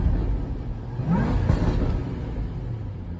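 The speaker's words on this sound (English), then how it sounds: "The difference though between the sport exhaust sound and the regular, it's a pretty big difference." A Jaguar F-Type R engine revs and rumbles nearby, its throaty sport exhaust rising briefly in pitch before settling into a steady growl.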